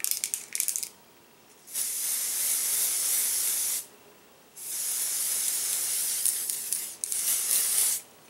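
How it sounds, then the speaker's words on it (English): Sephora Perfection Mist airbrush foundation sprays from the can in three close, sustained hissing bursts of about two seconds each, separated by short quiet pauses. "I'm going to go in and spray a little bit more around my nose"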